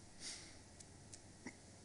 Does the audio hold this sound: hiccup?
yes